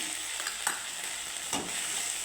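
Spice paste with panch phoron and salt frying in a pan, a steady close hiss of sizzling oil with a few soft scrapes of stirring, no voices.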